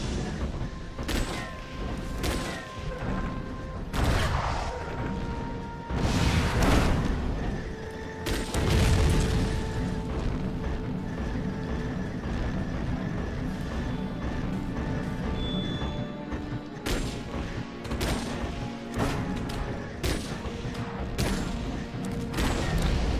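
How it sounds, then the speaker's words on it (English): Explosions and heavy impacts from combat in the mech video game Chromehounds, including a blast in a mech's undercarriage, with repeated booms and crashes over a steady rumbling background. "I don't know what I hit, but it's just like this explosion in the undercarriage and it was beautiful looking"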